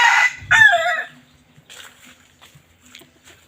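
A rooster crows loudly once, close by. Faint clucks and scattered quiet rustling follow.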